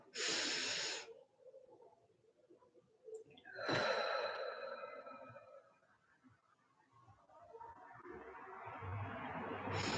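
Slow breathing during a meditation exercise, a few soft drawn-out breaths in and out with long airy swells and quiet pauses between them, close and faint with no talking.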